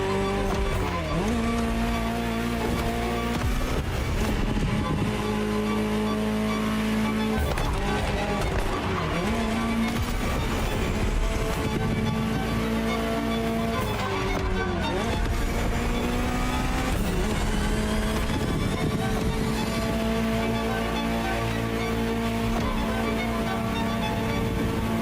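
A Ferrari supercar, first shown at the 1984 Geneva Motor Show, driving in the video game The Crew Motorfest, its engine revving and shifting through gears with tire noise, loud and continuous for the whole stretch.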